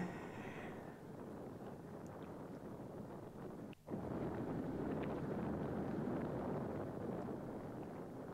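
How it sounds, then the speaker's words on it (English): Northerly wind buffets the microphone while riding a bicycle outdoors, a steady loud rushing roar across the whole stretch with a brief dip midway, no talk heard. "A little bit of a northerly wind."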